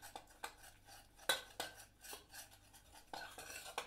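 Flour and milk paste stirred in a pan for a cheese soufflé, quiet rhythmic scraping and clinking of a utensil against the pan, close and soft with no talking.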